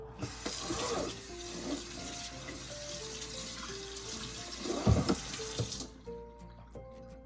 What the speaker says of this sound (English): you can just let that drip out